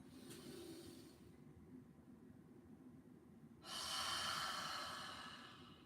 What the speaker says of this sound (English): Maybe do a few of those exhales with the mouth.